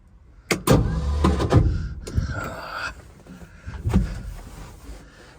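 A Ford F600 truck engine cranks over while trying to start after fuel is poured into the carburetor, with loud close bursts of starter grinding and mechanical clatter broken by short pauses.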